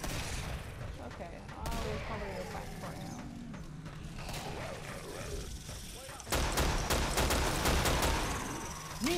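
Shotgun blasts in the co-op video game Killing Floor crack out as sharp, booming reports, several in rapid succession near the end, amid in-game mechanical clatter and occasional player chatter.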